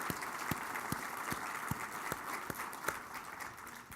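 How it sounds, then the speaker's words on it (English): Convention crowd applause, steady and moderately loud, with a regular thumping beat running underneath as though people clap or stomp in rhythm. "please give them a round of applause."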